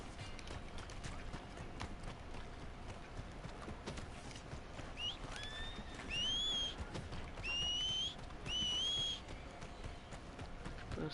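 Horse hooves in the video game Red Dead Redemption 2 clip-clop steadily at a trot, joined midway by several high whistle-like chirps in short bursts, all fairly faint.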